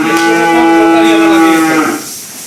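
A cow lets out one loud, deep moo close by, holding it for nearly two seconds before it fades.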